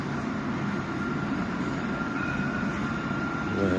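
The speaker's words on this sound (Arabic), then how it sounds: "كتشوفوا هاد الترام" A tram rolls through the Agdal district of Rabat, heading down toward the city, with a steady, loud rumble and rail hum close by, no talking.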